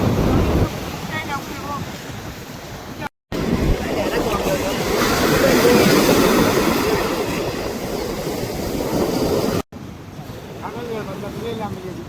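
Strong wind gusts across an open sea shore, with surf noise roaring steadily and buffeting the microphone; the rush drops out briefly twice.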